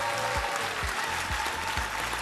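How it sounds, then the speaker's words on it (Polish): Audience applause welcoming a singer at the 2009 Telekamery television awards gala in Poland, a steady dense roar of clapping throughout with low musical tones beneath. "Wielkie brawa."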